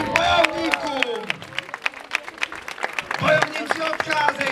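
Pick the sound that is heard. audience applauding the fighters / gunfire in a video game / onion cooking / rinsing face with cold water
audience applauding the fighters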